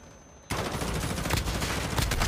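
Call of Duty match gunfire in a competitive esports game, erupting suddenly into a loud continuous rattle of rapid shots that keeps going to the end.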